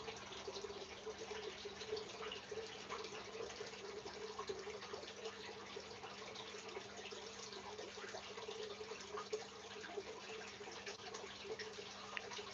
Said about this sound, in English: When I hear water like this, I need a pee